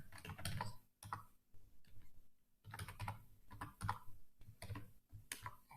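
A password is typed on a computer keyboard in two close bursts of quick clicking keystrokes, separated by a short pause with no talking.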